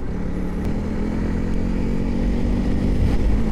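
A Honda CRF300L motorcycle engine drones steadily while riding, with a continuous low rumble that rises slightly as speed picks up, loud and close, with no talking.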